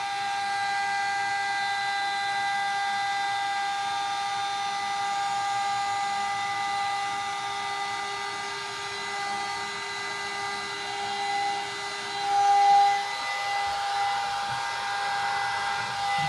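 A hair dryer blows steadily close by during a blow out, a continuous high whine with a brief shift in pitch near the end.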